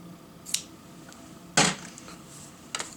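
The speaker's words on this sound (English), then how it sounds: "Now it's a case of cutting off this end." Scissors cut through the yarn end of a crocheted overshot-weave hot pad in three separate snips, a faint one, a louder sharp cut, then a light double snip, in a quiet room.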